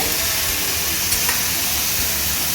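Wild kantola vegetable frying in a pan over a medium gas flame gives a steady, close sizzle and hiss that runs continuously, with a few brief stirring scrapes.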